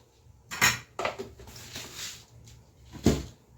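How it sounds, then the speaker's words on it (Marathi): Coarse salt dropped into ragi ambil in a pot: a few distinct metallic clinks and knocks of a spoon against the pot, spaced irregularly with quiet gaps between. "ह्या आंबलीमध्ये मी आता हे मोठं मीठ टाकणार आहे"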